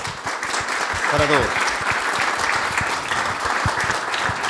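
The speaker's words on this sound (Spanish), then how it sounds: "Por favor, démonos un aplauso de bienvenida" Welcome applause at a seminar on the ethical use of money, a steady round of crowd clapping with a brief voice speaking over the start.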